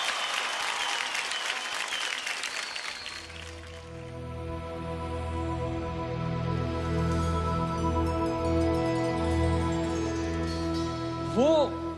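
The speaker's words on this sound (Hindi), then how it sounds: "एक बार जोरदार तालियां हो जाए" Audience applause in a singing-competition studio, a burst of clapping that fades as sustained musical tones take over, with a brief swelling flourish near the end.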